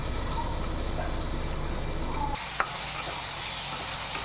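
Ivy gourd sautés with salt in a pan on low heat, giving a dense close sizzle and stirring noise for about two seconds before it drops abruptly to a quieter hiss, with a single sharp click.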